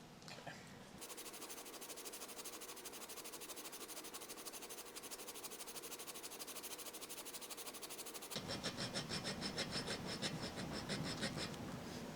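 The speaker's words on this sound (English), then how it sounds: "I'm going to take a hacksaw blade here and carefully cut that" Hacksaw blade working back and forth through metal on a blown 327 engine, a steady close rasping scrape that shifts to a brighter, more rhythmic stroke near the end.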